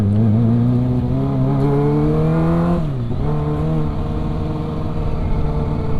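Kawasaki Ninja ZX-25R motorcycle engine on a test ride in West Papua, a steady loud high-pitched drone that climbs in pitch, dips sharply near the middle as if shifting gears, then holds on, with no talking.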